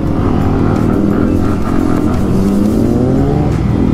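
A Kawasaki ZX10R motorcycle accelerating hard on a ride, its loud engine roar rising steadily in pitch as it pulls away, close and continuous with no talking.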